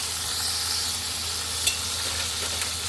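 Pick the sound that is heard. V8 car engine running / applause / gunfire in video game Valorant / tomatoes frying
tomatoes frying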